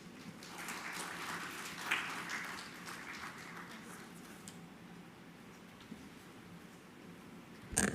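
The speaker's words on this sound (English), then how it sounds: "let's give a warm round of applause one more time, everyone, for Sri Rajiva" Faint, steady audience applause after a presentation at an awards and report-release ceremony, a soft wash of scattered clapping lasting several seconds that thins toward the end.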